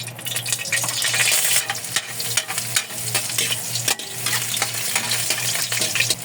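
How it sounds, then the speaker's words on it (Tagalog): Garlic sautés in hot cooking oil for beef-skin balbacua, with a steady close sizzle, stirring scrapes and brief clinks running throughout and no voices. "Unahin ko lang magisa yung ating bawang."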